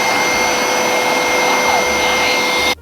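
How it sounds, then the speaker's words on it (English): A wet-dry floor vacuum cleaner runs in dry-only mode with a steady, loud whirring hum, continuous throughout before cutting off abruptly at the end. "this thing is like as easy to use as a vacuum cleaner"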